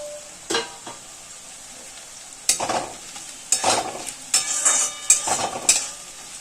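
Garlic and chopped green chilli frying in oil in a pan for a prawn curry, with a soft sizzle broken by several sharp spoon stirs and scrapes, close by and growing busier toward the end.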